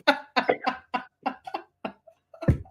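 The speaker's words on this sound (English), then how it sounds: "about to make me have a coughing attack" Several sharp coughs in a quick uneven burst, close and loud, from a host on a drag racing talk show, with short pauses between them and one final heavier cough.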